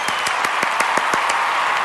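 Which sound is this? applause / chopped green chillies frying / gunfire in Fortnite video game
applause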